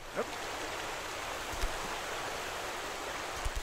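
Steady rushing water in a climbing video game flows continuously, a broad even wash of sound with a couple of faint knocks.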